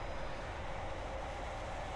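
Simulated high-speed train running on the Carlisle to Glasgow route in Train Simulator 2018, a steady dense rumble and rush of rails and wind, loud and continuous with no talk.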